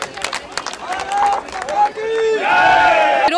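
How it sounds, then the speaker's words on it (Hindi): Crowd at a BJP political rally in Delhi with Manoj Tiwari, loud and close, cheering in rising, sustained shouts that swell toward the end over a scattered background babble. "एक बार जोरदार तालियों से अभिनंदन"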